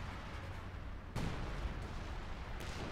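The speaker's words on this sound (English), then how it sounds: "Shots just keep bouncing off the Jagdtiger's thick frontal armour." Tank battle in Company of Heroes 2, with shots glancing off a Jagdtiger's heavy frontal armour: a dense roar of gunfire and explosions, with a sudden louder boom near the middle and another blast near the end.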